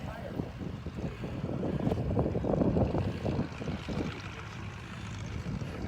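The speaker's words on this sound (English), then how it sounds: "Now that's an engine." A Stearman biplane with a nine-cylinder Pratt and Whitney radial engine runs at a fly-in, a rough, throbbing low rumble heard fairly close with wind buffeting and voices faintly in the background.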